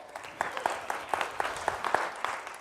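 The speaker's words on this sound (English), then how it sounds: "Everybody give Maria a round of applause" A small room of attendees at a talk gives a brief round of applause, a modest spread of separate handclaps with a loose, uneven rhythm, fairly quiet and without speech over it.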